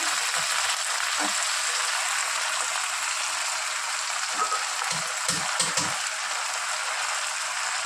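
Leafy greens hit hot oil in a pan and fry with a steady, loud, close sizzle, broken by a few soft low bumps from the pan.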